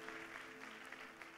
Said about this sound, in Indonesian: Boleh beri tepuk tangan buat Tuhan yang luar biasa,